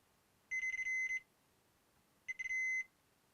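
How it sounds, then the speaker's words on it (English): A multimeter set to audible continuity mode beeps while probing capacitors on a rare Xbox motherboard: two steady electronic tones, the first about 0.7 seconds long and the second slightly shorter after a pause, with no talk. "I just have my meter in audible continuity mode."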